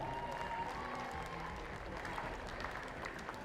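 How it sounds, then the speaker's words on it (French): An indoor crowd at a women's tchoukball Nations Cup final between Italy and Switzerland applauds the teams, a steady wash of clapping heard from some distance with a few scattered cheers. "on les applaudit bien fort"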